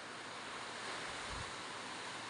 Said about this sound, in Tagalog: Nabot na kami ng lakas ng hangin at malakas ang ulan.